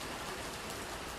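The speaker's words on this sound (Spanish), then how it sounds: "La lluvia azotaba la calle con salvajes remalazos de furia" Heavy rain lashes a street in a dense, steady hiss that fills the whole moment, loud and close, with no voices.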